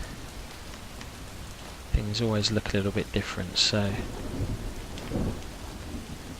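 Steady rain patters in the video game Skyrim while someone talks over it, and a loud crack of thunder rolls in partway through before fading back into the rain.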